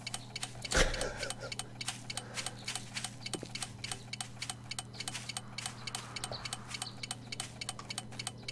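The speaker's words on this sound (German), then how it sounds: "Hörst du das Ticken?" Steady, regular ticking of a bomb timer in the survival game 7 Days to Die, Starvation mod, continuing evenly throughout over a low background hum, with one sharp louder hit near the start and faint talk.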